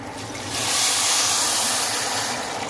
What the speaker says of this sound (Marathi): त्याच्यामध्ये मी पाणी टाकते.